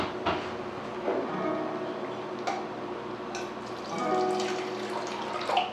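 A quarter cup of water poured into a pan to rinse out leftover honey while making gimlets, a soft trickling splash near the mic with scattered light clinks and knocks of kitchenware around it.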